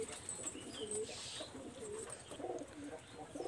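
Mysore pigeons in a pair for sale, cooing softly in repeated low, rolling calls with a few faint chirps, fairly quiet against a light background hum, no speech.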